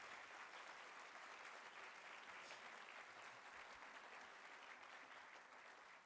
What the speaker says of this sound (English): Can I have a big round of applause for Mike Nikitas tonight, ladies and gentlemen?